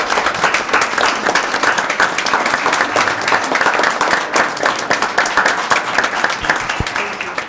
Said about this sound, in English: I would propose that we give them a round of applause